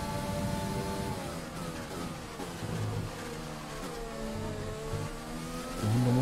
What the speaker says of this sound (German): Jetzt kommt der Alpha Tauri auf die Gerade.